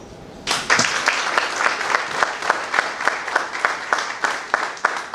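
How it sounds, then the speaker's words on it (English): Audience applause greets a speaker at a business school AI conclave, breaking out suddenly after a quiet moment, then settling into a steady ripple of clapping with individual sharp claps standing out near the front. "Let us welcome with a huge round of applause"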